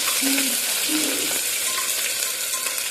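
Onion hits oil where garlic has reddened for a soybean pulao, giving a continuous crackling sizzle with faint scraping clinks of a utensil, steady and close throughout.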